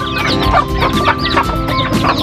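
Hens clucking busily near a mother hen with her eighteen chicks, steady overlapping calls at close range with high chick peeps woven through.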